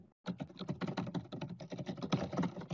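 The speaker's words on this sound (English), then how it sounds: "That's typing." Rapid typing on a computer keyboard, a dense run of close, crisp key clicks that starts after a brief pause and continues steadily without any speech over it.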